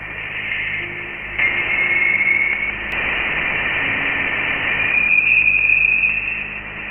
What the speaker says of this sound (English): It was a tone, a soft, steady hum